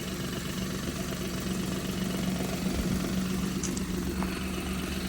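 A Maruti Alto car engine idles in good running order, a steady low hum held evenly throughout with faint background noise.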